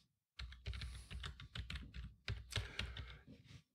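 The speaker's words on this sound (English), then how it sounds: "I'm going to type git clone" Quick bursts of keystrokes on a computer keyboard, a close, quiet, uneven patter of clicks typing a command, with no voices.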